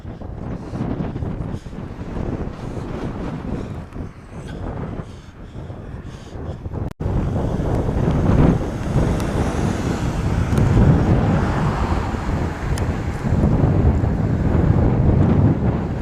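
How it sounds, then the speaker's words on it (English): Gusty wind buffets the microphone outdoors on a promenade in autumn, a loud rumbling roar throughout that grows heavier after a sharp break midway, with no one talking. "Oh, that's breezy."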